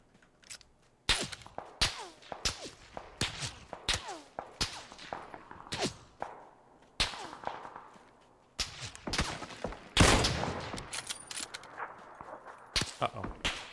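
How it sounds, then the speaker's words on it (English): Gunfire in the battle royale game PUBG: sharp, close shots and short bursts crack out at irregular intervals. The shots echo against a quiet background, with a few softer thuds between them. "A lot of people shooting at me right now"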